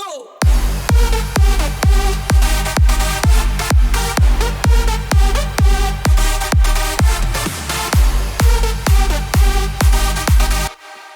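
A punchy electronic kick drum thumps in a steady four-on-the-floor pulse, loud and boomy, driving through a dense, buzzy, slightly muddy track before stopping abruptly.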